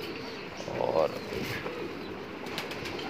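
Cheena pigeons coo softly in a loft, with a short burst of wing flapping near the start, under someone speaking Hindi.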